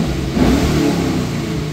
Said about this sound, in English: Nice rumble out the rear exhaust.